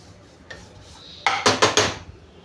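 Semolina roasting in ghee for rava shira, with a spoon scraping and clinking against the pan in several sharp strokes. The scrapes come close and loud in a quick cluster after a quieter start.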